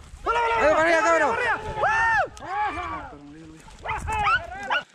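Greyhound hunting dogs bark and yelp in loud repeated bursts at a rabbit hunt outdoors, with excited high yips and a few whimpering calls clustered in quick runs. People shout and talk over them.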